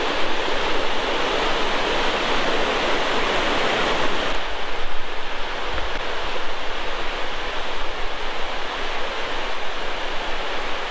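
Constant roaring rush of falling water, loud and unbroken, with a slight drop in brightness midway.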